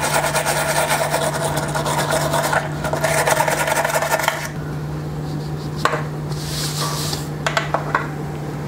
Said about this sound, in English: 600 and a 400 grit sandpaper.